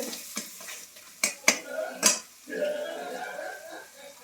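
Masala fries in mustard oil in a pan, a spatula clanking and scraping a few times in sharp knocks before settling into a soft, steady sizzle up close.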